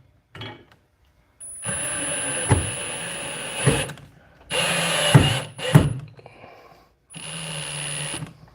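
Power drill driving screws into a garage ceiling to mount bike hangers. There are three separate whining bursts, each a few seconds long, with a sharp high pitch and gaps of quiet between them. The drill is close and loud.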